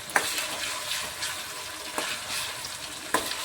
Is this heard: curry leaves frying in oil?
yes